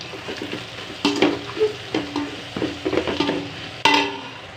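Mint and coriander leaves sautéing in a pan with tomatoes for egg biryani, a soft sizzle under loud spoon stirring and scraping, with metallic clinks of the utensil against the pan.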